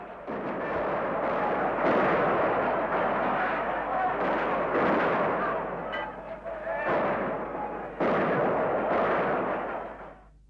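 Heavy, sustained gunfire during the Budapest uprising crackles and booms in repeated bursts, dense and loud throughout, like a chaotic firefight with no clear pauses.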